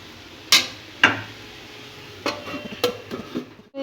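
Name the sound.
lid placed on cooking pan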